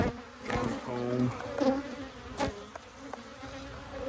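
Honeybees buzzing around a hive frame as they draw out comb, a close steady drone with a few nearby passing buzzes and light handling knocks.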